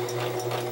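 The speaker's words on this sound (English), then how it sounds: "So we'll do that at the machine right now. We're going to sew right on the line right now." A sewing machine runs in a steady, even whir while stitching a seam in scrap fabric for a homemade owl pincushion, a short continuous burst with no talk.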